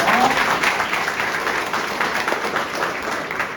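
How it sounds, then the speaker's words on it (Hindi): An audience at an entrepreneurship lecture session applauding loudly: dense, sustained clapping from a large crowd, steady throughout with no pauses. "खुद के लिए ताली बजाना जोर से."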